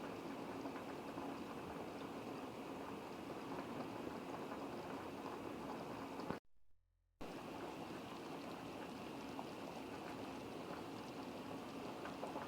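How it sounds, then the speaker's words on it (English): Steady bubbling and hissing of chicken boiling in a pot on high heat, continuous and close, broken by a brief near-silent gap midway. "The chicken is boiling away nicely."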